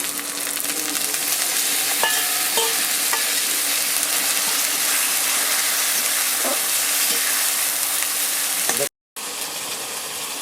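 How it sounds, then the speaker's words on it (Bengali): Ginger and chopped tomato fry in a pan for a rajma tarka, a loud, steady sizzle with a few utensil taps and scrapes, briefly cutting out near the end before resuming. "আদাটাকে সামান্য ভেজে নেবো এর সঙ্গে দিয়ে দেবো কুচনো টমেটো"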